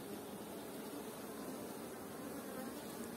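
Honey bees hum in a continuous, even buzz around a hive frame in a box, faint and steady with no talk.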